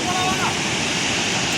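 Jog Falls in Karnataka pours water over a broad rock face, a steady full roar of rushing water close by, with faint voices in the background.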